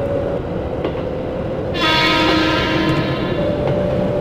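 A train in the PS3 Railfan game on the Kyoto–Osaka line sweeps past with a loud rushing roar that swells midway and holds steady, over a constant low rumble with a faint steady tone.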